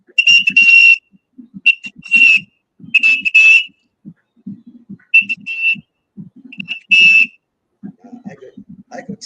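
A person whistles a series of short, clear, steady-pitched notes in bursts, close and loud, alternating with low murmuring voices in a quiet room.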